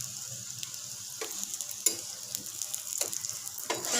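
Chili cheese paratha cooking on a hot pan, a soft steady sizzle with occasional sharper hisses as it is pressed and turned, close but fairly quiet, with no talk.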